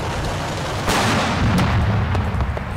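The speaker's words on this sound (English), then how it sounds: "No, it's absolute big explosion" A thrown anti-tank charge bursts against a tank in the Combat Mission video game: a sudden loud, broad explosion hits about a second in, followed by rumbling aftershock and a second smaller crack near the middle.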